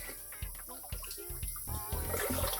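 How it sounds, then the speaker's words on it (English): Clean tap water runs over soapy dishes to rinse them in a cafe kitchen. A steady rush of water comes with scattered knocks and clatters of dishware close by. "I'm also going to run clean water, fresh clean water, over my dishes to rinse all of the soap off of it."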